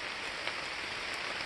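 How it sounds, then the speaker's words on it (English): Rain falls steadily in the woods near rock ledges, a soft, even hiss of drops on wet leaves and ground with no voices. "and it's still raining"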